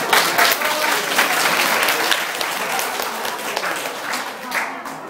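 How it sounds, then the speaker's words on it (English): A crowd at a Christmas party stage show gives the dancers a big round of applause, loud and dense clapping with a few voices mixed in. "shall we have another big round of applause for our great dancers?"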